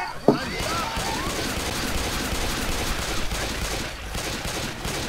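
Gunfire in the video game Left 4 Dead 2, a continuous dense barrage of rapid shots with one sharper crack near the start, sustained throughout at fairly loud level.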